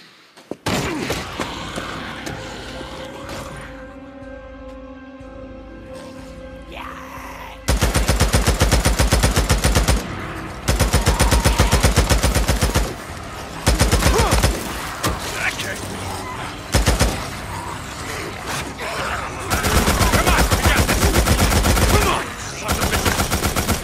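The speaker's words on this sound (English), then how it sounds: "Just keep up a steady stream of fire, all right?" Sustained automatic gunfire rattles in Days Gone during a fight with Freakers, loud dense bursts starting after a quieter opening and repeating in long stretches with short pauses between.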